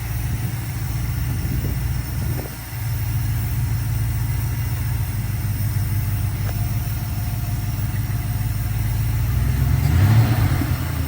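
An old 1972 Dodge W200 Power Wagon pickup engine idles with a steady low rumble, a brief clunk from shifting into reverse, then the engine swells louder near the end.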